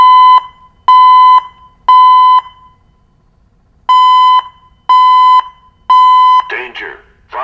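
A smoke alarm with a built-in voice warning gives loud, piercing beeps in groups of three with a pause between sets, then a synthesized voice begins speaking over the end.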